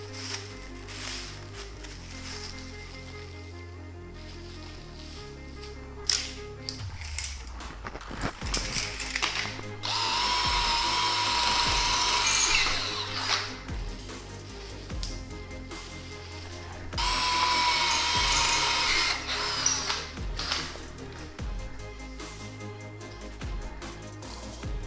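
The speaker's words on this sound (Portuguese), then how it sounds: "agora eu vou furar aqui em cima" A power drill bores a hole in a wall to mount a mirror on French cleat buttons, with two sustained whirring bursts of about three seconds each amid quieter handling noises.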